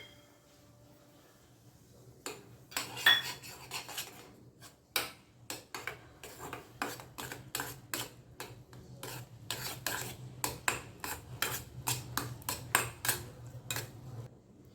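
A spoon stirs flour into boiling water in a pot, making dough for fasting farali vade, with irregular scraping and sharp tapping strokes against the pot over a faint low simmer.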